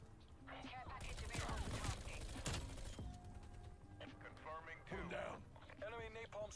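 Rapid gunfire in the shooter game Call of Duty Cold War, bursts of shots crackling under and between excited talk from a player.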